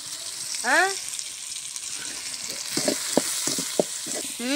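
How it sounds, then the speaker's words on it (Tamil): Green beans sautéing in a pan with tomato and onion give a steady soft sizzle, with a few brief utensil clicks and stirs partway through and short bursts of voice-like tonal sound at the start and end. "பீன்ஸ் வந்து நல்லா வதங்கட்டும்"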